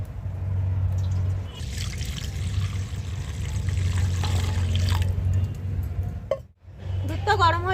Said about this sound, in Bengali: দুধটা ঢেলে দেব কড়ার মধ্যে।